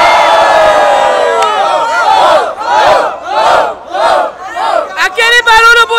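A large crowd at a rap battle in Barueri, São Paulo, roars and cheers in repeated surging waves, loud and close, with whistles and shouts rising toward the end.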